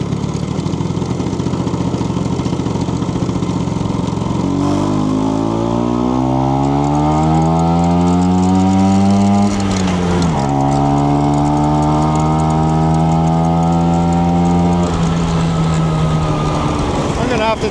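A 1968 Vespa 150 Sprint classic Italian scooter engine under way in gear, a loud close buzzing two-stroke drone that rises in pitch through acceleration, drops at a shift, then climbs again steadily.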